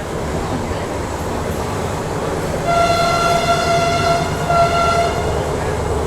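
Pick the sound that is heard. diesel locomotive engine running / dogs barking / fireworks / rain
diesel locomotive engine running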